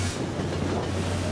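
A 1940s-built steam locomotive train in Hokkaido rolls past, giving a loud, continuous rumble of wheels and carriages with a low steady drone and no pauses.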